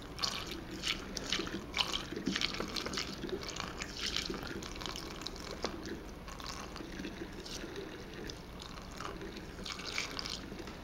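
Yeast starter being carefully tipped into a rye saison brew, giving a continuous close liquid pour with splashing and dripping over several seconds at a soft level.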